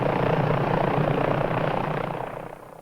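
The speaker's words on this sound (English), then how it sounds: "As the helicopter lurched upward" A helicopter in flight carries a passenger who feels each jerky lurch upward. Its rotor and engine roar stays loud and steady at close range, then eases off a little toward the end.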